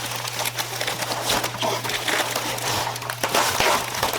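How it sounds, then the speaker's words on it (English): Plastic packaging from an RC buggy kit crinkles and rustles continuously during unboxing, close and busy, over a steady low electrical hum. "again, sorry for the packaging noise."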